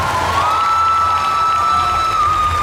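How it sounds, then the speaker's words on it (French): Audience at a cosplay contest on stage at a games show in Toulouse applauds and cheers a contestant, a loud continuous crowd roar with whoops and a sustained high shout over it. "donc on peut l'applaudir encore une fois"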